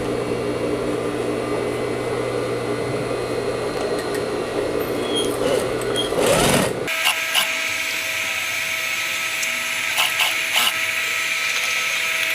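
A sewing machine topstitches a synthetic-leather pouch with a steady mechanical whir that cuts off abruptly partway through, followed by quieter clicks and handling noises.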